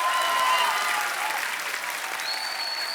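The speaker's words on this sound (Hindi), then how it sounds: "जोरदार तालियां हो जाए।" Audience applause at a mushaira poetry show, steady broadband clapping from a crowd sustained across the whole stretch with faint tonal traces above it.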